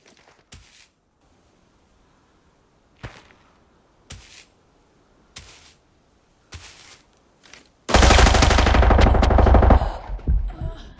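Gunfire in the Arena Breakout shooter game: several sharp, separated shots spaced a second or so apart, then a loud sustained burst of rapid automatic fire near the end, close and dry with no talk.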